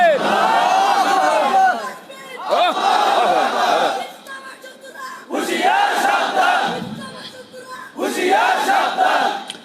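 A large crowd chants the takbir slogan back to a singer during a stage performance, loud and close, in several roaring shouted bursts separated by brief pauses.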